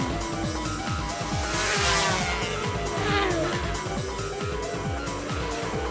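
Speedway motorcycles race around a track, with a steady, loud, high-revving engine roar that rises and falls as the bikes sweep past. No voices are audible.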